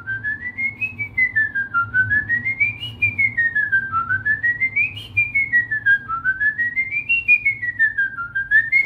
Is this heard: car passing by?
no